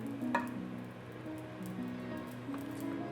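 Butter is stirred into butter chicken sauce in a pan, a soft steady sizzle and wet squishing throughout, with a faint scrape of the utensil near the start.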